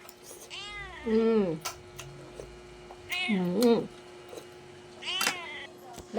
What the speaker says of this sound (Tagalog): May extra lagi yung mingming ko